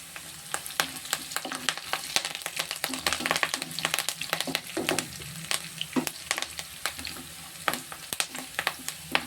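Curry leaves frying in hot oil: dense crackling and popping, with frequent sharp spits over a steady sizzle, close and continuous.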